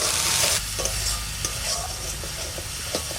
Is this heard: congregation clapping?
no